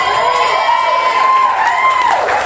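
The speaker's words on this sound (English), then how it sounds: "There you go. Cheap applause." Wedding guests cheering and whooping, a lively crowd roar with high shouts and whistles, loud and close, with applause blended in throughout.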